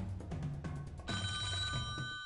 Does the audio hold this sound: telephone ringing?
yes